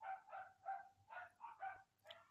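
Several dogs bark and yip in short, irregular bursts, moderately close, with brief gaps between volleys and a faint whimper-like tone at the end.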